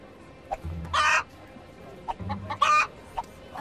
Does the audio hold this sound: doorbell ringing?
no